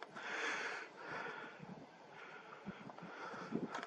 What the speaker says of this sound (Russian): Еще и ветер